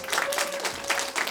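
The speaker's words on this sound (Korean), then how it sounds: "박수 한번 주시죠" A small audience gives a short burst of scattered clapping at a school poetry festival, the applause brief and fairly quiet.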